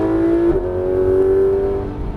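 A Porsche 991 GT3 RS screams at full throttle on the Alès circuit, a loud, steady high-pitched engine wail heard from on board, with a brief dip around a gear change before it keeps pulling.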